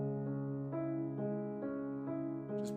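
A piano is played very softly, with a slow series of gentle single notes struck about every half second and each one left to ring quietly into the next.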